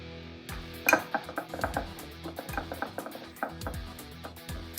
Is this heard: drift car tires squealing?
no